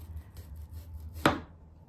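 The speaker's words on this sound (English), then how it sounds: "Slicing our onion." A knife slices through an onion with one crisp, distinct cut against a board, close and clear amid faint background hum.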